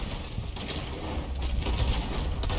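Gunfire in a video game with bandits near a supply wagon, a dense continuous burst of rapid shots at steady loudness.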